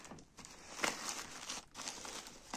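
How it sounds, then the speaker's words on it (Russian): Wood bedding being changed in a pet mouse cage, with soft crinkling and rustling shavings, close and fairly quiet, in short irregular bursts. "Это у нас будет смена подстилки у мышей."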